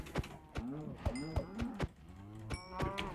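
Cows mooing in Minecraft: a rapid series of short, close, low bovine moos, several overlapping each other, each with a sharp clicky onset, repeating throughout.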